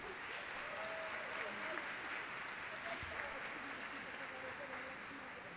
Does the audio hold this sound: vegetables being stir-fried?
no